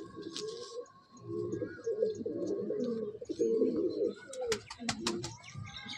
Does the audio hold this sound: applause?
no